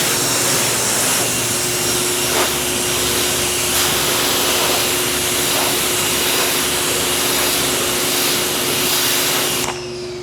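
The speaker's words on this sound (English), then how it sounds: "take our power washer, power wash out our brushes" A power washer rinsing out detailing brushes while working on a car with marred black paint: a loud, continuous hiss of spraying water that runs unbroken for about ten seconds, then drops off abruptly.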